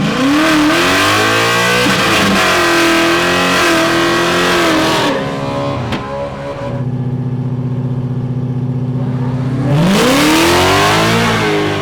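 A drag racing car accelerates hard down the strip, its engine climbing through loud rising revs with gear shifts, then holding a steady tone before revving up again, close and dominant with no talk.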